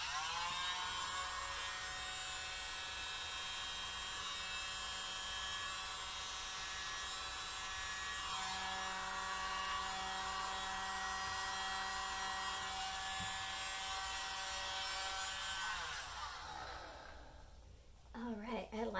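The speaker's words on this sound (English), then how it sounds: "So here we go with the mini leaf blower." A small handheld mini leaf blower runs in a steady, loud whine for about sixteen seconds, blowing across wet metallic acrylic paint in a Dutch pour, then cuts off and fades, with a few handling noises at the end.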